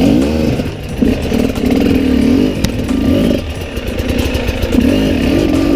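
An enduro dirt bike engine revs hard while climbing over wet rock in a rough gully, a loud, close, uneven two-stroke-style buzz with repeated bursts of throttle and clattering, and no speech.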